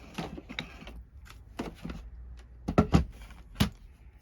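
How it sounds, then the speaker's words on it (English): A Kaleido die-cutting machine feeds a plate of dies through its rollers, giving a series of uneven clunks and knocks with scattered louder thumps, fairly close and without any talk. "Bring my Kaleido in, and again die cut those as I would do as standard. So run them through to die cut them."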